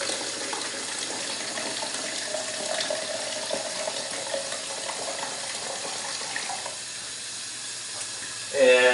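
Steady running tap water rinsing developed 120 film in a tank, a constant close splashing hiss that swells briefly louder right at the end.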